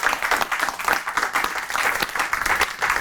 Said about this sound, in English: So let's give yourself a round of applause if you can